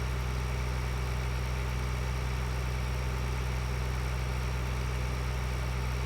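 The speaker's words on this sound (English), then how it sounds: "this tractor is pretty darn fast" A tractor engine idles in Farming Simulator 2013, a steady low drone with a faint rhythmic throb that holds unchanged throughout, close and alone.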